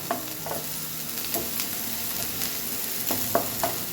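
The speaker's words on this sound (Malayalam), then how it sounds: "സവോള ഒന്ന് വാടിയാൽ മതി ബ്രൗൺ ഒന്നും ആവണ്ട" Sliced onions sautéing in a pan, with a soft steady sizzle and repeated scraping stir strokes at an uneven rhythm, close up with no speech.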